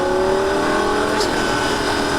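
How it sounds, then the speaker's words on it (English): Lamborghini Gallardo engine held at full throttle on a track in Las Vegas, a steady loud drone that stays constant throughout, with no voices over it. "back on the throttle again, back to full throttle, full throttle, full throttle, full throttle"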